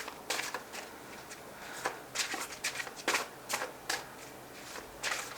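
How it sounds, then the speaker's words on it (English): A large, oversized tarot deck being shuffled by hand, with repeated riffling card bursts in uneven rhythm, close and fairly quiet, with no talking. "so difficult to shuffle this deck."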